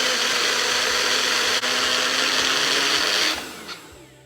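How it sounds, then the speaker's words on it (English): A blender whipping cream runs loudly and steadily with a high whirring buzz, then winds down near the end; no voices. "The sound of the blender sounds a little bit different."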